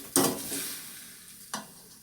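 Pancit kanton noodles tossed and stirred in a hot frying pan, giving two short scraping, sizzling bursts about a second apart over a low steady fry.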